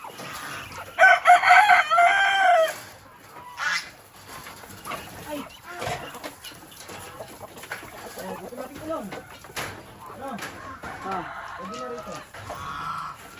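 Chickens cluck and squawk close by in a coop, with a loud rooster-like crow early on and people talking over the flock.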